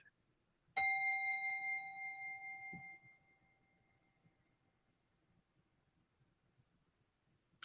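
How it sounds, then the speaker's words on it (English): A portable meditation gong is struck once, ringing out with a clear sustained metallic tone that fades over about two seconds, leaving quiet room ambience. "I have my portable meditation gong"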